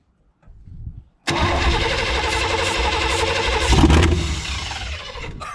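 A Chevy 350 V8 engine in a 1972 shortwide pickup cranks briefly, then catches and roars to life after almost 20 years unrun, running loud and steady with a surge in revs before settling.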